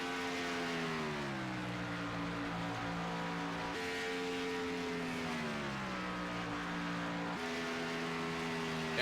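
A race car engine in a racing video game revs and accelerates on an oval track, its loud droning pitch climbing in repeated gear sweeps, each ending in a sharp shift before rising again, with no voices.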